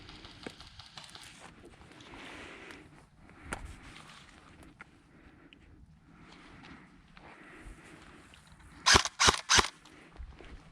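Airsoft guns firing outdoors, a single crack early on and then a quick cluster of three or four sharp shots near the end, over quiet background ambience.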